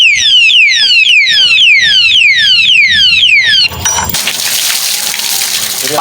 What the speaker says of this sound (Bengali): হাতে দিয়ে দিলাম, অ্যালার্ম বাজছে।